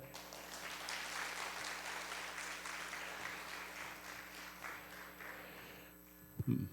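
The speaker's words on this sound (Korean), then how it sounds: "박수 칠래 박수 쳐요." Congregation applause at a church revival service, a steady wash of many hands clapping that fades toward the end, with a low electrical hum beneath and a brief knock at the close.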